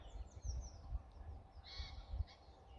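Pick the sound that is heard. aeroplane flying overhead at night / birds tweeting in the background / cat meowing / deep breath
birds tweeting in the background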